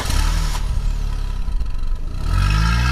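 Cartoon car engine revving loudly as the vehicle pulls over to the side, a rough, clattering drone that rises and surges again near the end.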